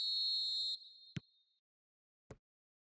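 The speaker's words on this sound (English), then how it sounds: "Whistle goes, and we start the second half." A referee's whistle sounds in the PES 2021 football video game during a Nations League match, a loud steady shrill tone lasting under a second, followed by a couple of sharp clicks against silence.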